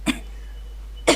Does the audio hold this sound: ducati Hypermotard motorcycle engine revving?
no